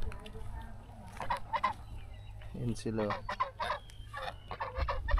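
A pair of geese honk repeatedly nearby after bathing, loud nasal calls in irregular bursts over a low background hum, with a brief spoken phrase among them.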